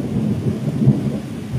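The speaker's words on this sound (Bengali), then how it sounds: "এখন কিন্তু মাঝারি থেকে ভারী বৃষ্টি কিন্তু শুরু হয়েছে, তার পাশাপাশি মেঘের গর্জন" Deep rolling thunder rumbles continuously through heavy rain during a storm in the Sundarbans, loud and close, with a swelling peak near the middle and no voices.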